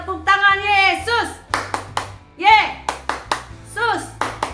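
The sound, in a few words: children clapping hands during online worship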